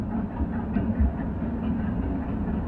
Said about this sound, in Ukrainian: Електричка їде.